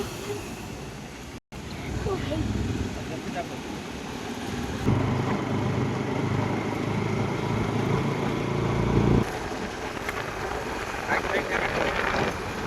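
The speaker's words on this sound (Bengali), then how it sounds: "বন্ধুরা দেখো বাইক যাচ্ছে" A motorbike engine drones steadily, swelling louder for a few seconds as it passes close by, then easing back into constant outdoor noise.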